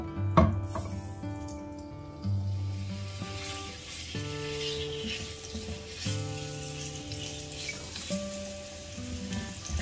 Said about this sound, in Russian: На разогретую сковороду я наливаю небольшое количество растительного масла и отправляю обжариваться курицу.